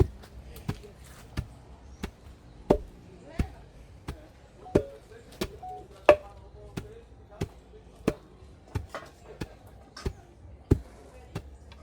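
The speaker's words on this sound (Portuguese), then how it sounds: "Hora do pilão. E aqui é assim, ó. Vai pilando." Wooden pestle pounding food in a pilão mortar, steady regular thuds roughly once a second, close and clear, with quiet talk and clinks in the background.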